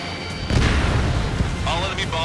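A missile explodes in an Ace Combat game with a loud low boom that swells and rumbles on, followed by a beeping cockpit alert, while radio chatter plays over it.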